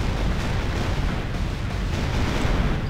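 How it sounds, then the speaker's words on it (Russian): Artillery in a World War 2 battle simulator game rumbles as a dense, continuous roar of distant guns and explosions, loud and unbroken with no clear separate shots. "И арта как начала стрелять."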